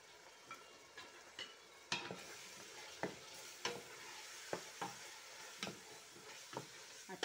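A spoon stirs eggplant stew with crayfish in a pot, giving soft scraping strokes at a steady pace under a faint sizzle, close and fairly quiet.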